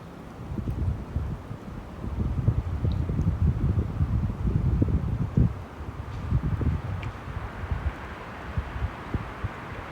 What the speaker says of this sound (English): I don't know if you guys can hear the wind, but these trees are going nuts.